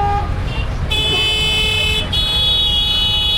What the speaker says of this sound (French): c'est pas possible de klaxonner comme ça